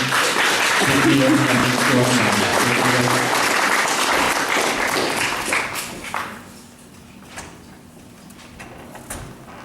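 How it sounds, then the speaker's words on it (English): A concert audience gives a round of applause for the jury in a hall. The dense clapping lasts about six seconds, then fades out into quiet room noise, with a few scattered claps and faint voices at the end. "Can we have another round of applause for the jury?"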